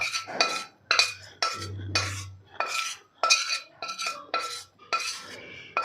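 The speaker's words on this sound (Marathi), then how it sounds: "कढईतलं जे मिश्रण आहे गुळाचं ते सगळं आपल्याला या परातीमध्ये ओतून घ्यायचं आहे" A melted jaggery mixture scraped from a wok into a plate, heard as a series of about ten rhythmic metal scrapes and clinks from a utensil, close up and with no talking.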